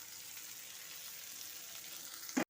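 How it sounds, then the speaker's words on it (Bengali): Onion, garlic and chili frying in oil in a village kitchen, a steady close sizzle throughout that cuts off abruptly with a brief clatter at the end. "পেঁয়াজ, রসুন, লঙ্কাটা একটু তেলে ভাজা ভাজা করে নেব"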